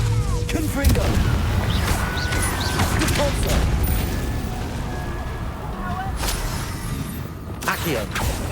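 A fire-blasting Confringo spell goes off in the Hogwarts Legacy game, a loud dense rumbling boom that fills the whole clip amid battle noise and cracking impacts.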